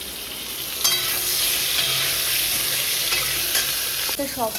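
Pieces of pointed gourd (potol) fry in a pan with a constant close hiss of sizzling oil, with occasional scrapes and clinks as they are stirred.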